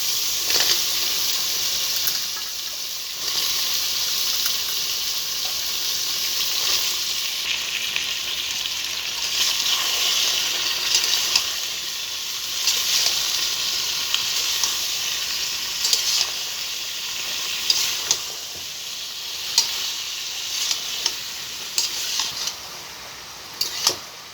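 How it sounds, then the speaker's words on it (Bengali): Green jackfruit being stir-fried in a spice masala gives a steady, fairly loud sizzle, with the scrape and clack of a spatula stirring now and then, heard close throughout with no talk. "এভাবে নাড়তে নাড়তে আমি এঁচড়টা ভালোভাবে কষিয়ে নেব"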